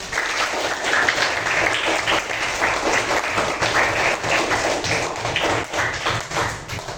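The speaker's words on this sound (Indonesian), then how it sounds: "Beri tepuk tangan" Classroom group applause after a student presentation, a dense, steady patter of many hands clapping together for about seven seconds at even loudness, with no talk over it.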